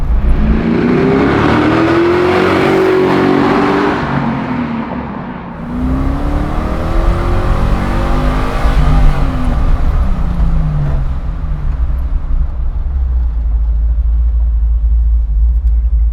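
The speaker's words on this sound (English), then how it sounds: "I like the sound of the car, man." A loud 600hp 1966 Ford Mustang Fastback engine rumbles steadily, its pitch rising and falling as the vehicle accelerates and shifts gears, close by.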